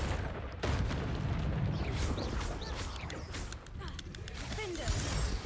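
Spell blasts from Confringo and Bombarda in Hogwarts Legacy, a string of booming bursts and crackling impacts under busy game combat noise, with a voice speaking over the fight.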